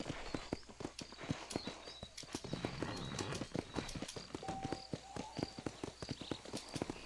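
Horse hooves trot in the Western video game Red Dead Redemption, a steady fast clip-clop of hoofbeats up close with faint game ambience and occasional tonal cues underneath.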